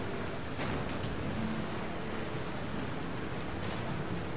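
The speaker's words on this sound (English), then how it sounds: "It's thundering or something?" Rain and rumbling thunder in The Last of Us Part II video game, a steady wash of rainfall with low rolling rumble and a couple of faint cracks, with no voices.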